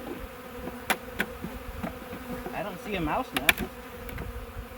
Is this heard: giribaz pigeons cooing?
no